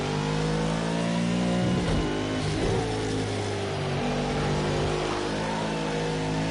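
A McLaren race car engine roars and revs in Project Cars 2 during a time trial lap, loud and continuous with pitch rising and falling through gear changes and corners.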